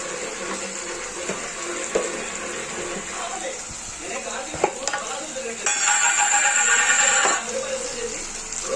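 Turmeric frying into a fish curry (chapala pulusu) in a pan, with a spoon stirring and scraping; a soft steady sizzle runs throughout, with a few clinks and a louder, brighter frying burst near the end.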